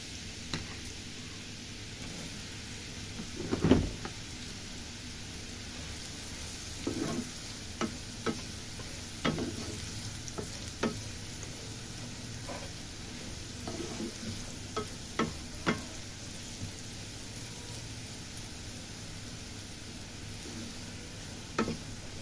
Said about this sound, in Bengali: এবার আমি অল্প অল্প করে চষিটাকে ভেজে নেব।